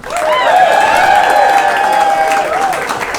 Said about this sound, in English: give it up for him one more time, everybody